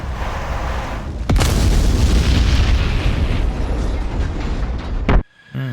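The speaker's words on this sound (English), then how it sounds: "You get blown out of the sky." An aircraft explodes in a flight simulator video game: a sharp blast sets off a loud, sustained roaring rumble lasting several seconds, which ends in a second sharp crack and sudden quiet.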